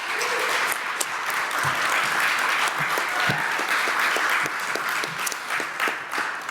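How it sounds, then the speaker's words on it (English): Steady audience applause for panelists at a game developers' conference, a full, continuous crowd clapping with a few sharper individual claps standing out, lasting throughout. "let's give another round of applause for our panelists."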